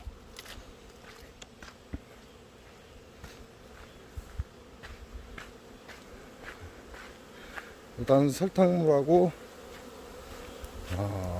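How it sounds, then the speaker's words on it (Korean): Wasp buzzing inside a drum trap baited with sugar water, a steady droning hum that swells loudly for a moment near the end, with someone talking over it outdoors. "드럼통에 말벌이 한 마리 들어갔는데 저 곧 빠져나올 겁니다"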